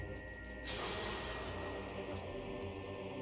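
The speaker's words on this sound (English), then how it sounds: "No, I shattered glass!" Glass shatters in the Metroid Prime 2 video game, a bright crashing burst of breaking glass with a scattering tail that fills the sound, loud and close with a busy game soundtrack underneath.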